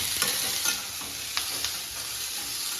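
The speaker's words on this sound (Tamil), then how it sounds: "இது கொஞ்ச நேரம் வதங்கட்டும் முந்திரி கொஞ்சமாவது வறு வறுக்கணும்ல" Tomatoes and cashews sautéing in a pan for a chapati gravy: a steady close sizzle fills the clip, broken by a few soft clicks and scrapes of stirring, with no talking.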